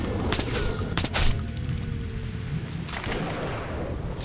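Gunfire in Metro Last Light Redux aimed at shrimp monsters: a run of sharp, loud shots in bursts, with a brief lull in between and more cracks near the end.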